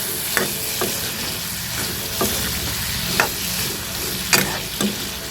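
Pork frying in its own rendered fat in a pan, a constant sizzle broken by five or six sharp scrapes of a spatula stirring the meat at uneven intervals; no talking.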